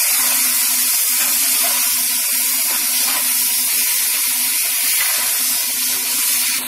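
Maggi noodles vegetables frying in a pan just after soy sauce is poured in, a loud, steady sizzling hiss with a spray-like, steamy texture, close and continuous throughout.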